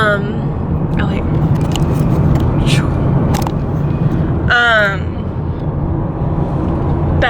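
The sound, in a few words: car driving on a mountain road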